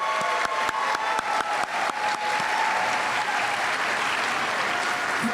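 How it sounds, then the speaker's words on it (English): Sustained audience applause at an SCC honors ceremony: dense, steady clapping from a large crowd, with a few sharp individual claps standing out near the start. "A round of applause for them."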